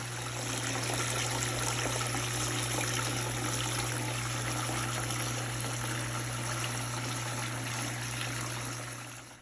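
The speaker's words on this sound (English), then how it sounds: "Enjoy the soothing sounds of our water feature." Indoor water feature in a school relaxation room, trickling with a steady, dense splash and dribble close by, over a constant low pump hum, with no voices.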